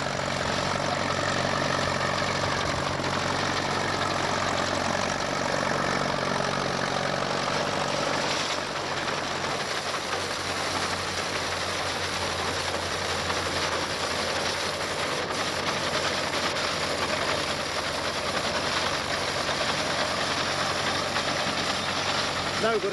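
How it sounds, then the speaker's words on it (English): An old tractor engine runs steadily in a field, pulling a binder at a 1991 vintage working demonstration at a quarry; a continuous loud droning rumble fills the whole stretch, with a voice talking over it. "With Father Dud driving and Robert riding the binder, here we are, what we're known as piking off now"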